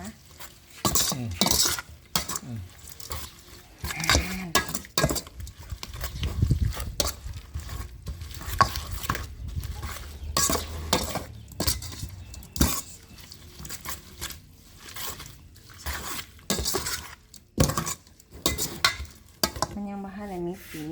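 Thai spicy salad with shallots being kneaded and mixed by hand in a bowl, giving irregular wet squelches, rustles and occasional clinks of dishes, loud and close, with a voice speaking at times.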